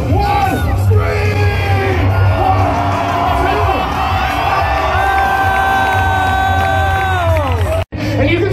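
A large crowd screams, whoops and cheers loudly and continuously, with many overlapping voices up close, cutting off abruptly near the end.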